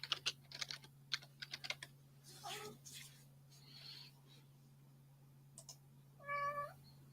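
A cat gives a short meow near the end, heard under quick bursts of computer keyboard typing and clicks, with a steady low hum throughout.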